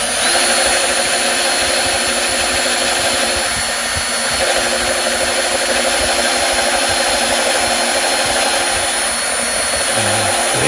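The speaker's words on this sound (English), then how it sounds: "You can see the big drill just cuts through this like that." A power drill whines steadily and loudly, boring through wood for the full stretch with a constant motor drone and no speech.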